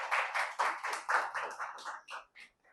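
An audience at a welcome gathering claps together, a brisk burst of close hand claps that thins out and fades to a few last scattered claps.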